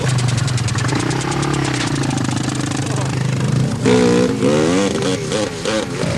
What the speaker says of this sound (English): You got an '82 YZ490 motor on the back.